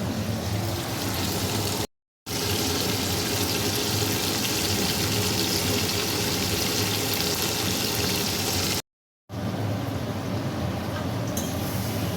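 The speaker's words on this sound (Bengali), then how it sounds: "ভালো করে মাংসগুলোকে ভেজে নেব।" Meat fries in a pan with a steady, dense sizzle that holds close and fairly loud, broken by two brief gaps of silence.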